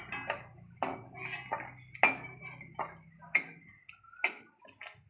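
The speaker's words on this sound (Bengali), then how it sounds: "এই যে বড়া ভাজা হয়ে গেছে, বাটিতে নামিয়ে নিচ্ছে।" Freshly fried bora fritters being lifted into a bowl, with a run of light metallic clinks and taps from a utensil against the bowl and pan, close and fairly quiet.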